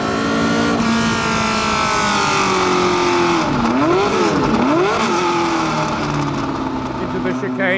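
A 1969 McLaren M9A race car with a Cosworth engine in a Formula One chassis roars loudly and close, its engine note rising and falling sharply through gear changes and revs, while someone talks over it.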